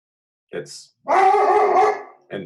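A pet dog barks nearby, with a short yap, then a longer drawn-out, howl-like bark, then another short bark, loud and clear against silence.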